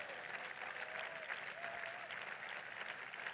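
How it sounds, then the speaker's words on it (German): Applause from a crowd at an SPD political rally in Hannover, a steady even patter of many hands at moderate distance, with a faint voice briefly audible under it. "Lieber Walter, dieser Applaus gehört dir."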